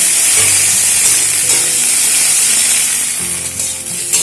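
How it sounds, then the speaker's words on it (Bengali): Potatoes and okra fry together in a pan, giving a loud, continuous hissing sizzle close up with only small shifts in intensity and no talking. "আলু আর ভেন্ডি একসঙ্গে ভেজে নেব"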